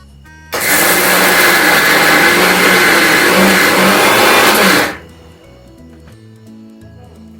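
A mixer grinder whirs loudly and steadily for about four seconds as it grinds dahi vada batter, then switches off, leaving a quiet room.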